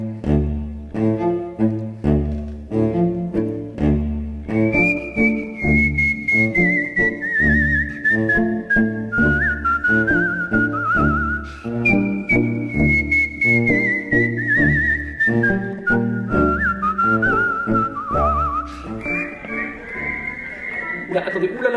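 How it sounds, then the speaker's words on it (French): A solo whistler performs classical melodies accompanied by a string quartet, the clear whistled line gliding and sustained above bowed strings playing steady chords throughout. "le siffleur interprète les plus beaux airs de la musique classique"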